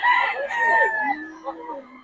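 A young rooster (stag) crows up close in Bocaue, a single loud drawn-out crow that rises and then trails off.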